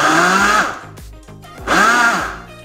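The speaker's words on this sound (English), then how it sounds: "We're just using the blender." Blender whirring through sugar, flour, salt and butter, loud bursts that rise and fall, with a lower strained run between two high-speed spurts.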